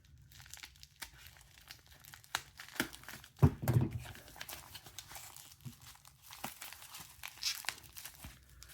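Watch package, a Chenxi 8854/948, cut open with scissors: soft plastic crinkling and rustling with a few sharper crunches and snips near the middle, close and fairly quiet, with no talking.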